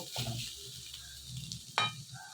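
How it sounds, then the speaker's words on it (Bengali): Two eggs cracked into frying vegetables for egg chowmein in a home pan, a soft crackle with brief stirring scrapes and one sharper clink near the end, faint and close. "এইবার আমরা এই ভাজাটার মধ্যে দুটো ডিম ফাটিয়ে দিয়ে দেব"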